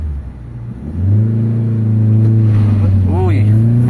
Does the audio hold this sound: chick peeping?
no